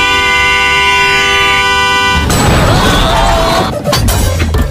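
A car horn blares in a long, steady honk in an Indian film scene, then cuts into a burst of crashing, clattering noise and street commotion, loud and close.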